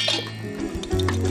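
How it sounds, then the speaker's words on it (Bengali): Ingredients poured into a mixer grinder jar in a kitchen, with soft liquid splashes and light clinks against the container, close and fairly quiet. "এবার আমরা মিক্সির যে কন্টেনারটা আছে তার মধ্যে এটা ঢেলে দিই"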